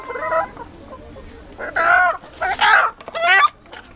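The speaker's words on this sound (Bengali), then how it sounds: "আমি এই মুরগি ঘর থেকে দেশি মুরগি ধরবো" Native country chickens clucking in a chicken coop, a series of close, bursty squawks and clucks in quick succession, growing busier and louder toward the end.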